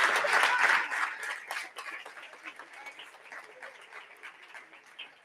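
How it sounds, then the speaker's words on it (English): Audience clapping at an award ceremony, loud and dense at first, then thinning into scattered claps that fade, with a few chuckles and soft voices underneath. "Now you're clapping, huh?"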